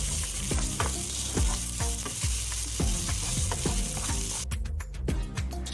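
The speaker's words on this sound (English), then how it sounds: "I have also added half teaspoon of ginger garlic paste, and now you need to saute it well" Ginger garlic paste sizzles steadily in hot oil in a pan for masala idli while a spatula stirs and scrapes it in a loose rhythm, close and loud with no talking.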